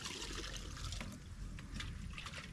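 Lukewarm water poured onto a garden at dusk, a steady splashing and trickling rush that continues without pause at moderate loudness, with no talking.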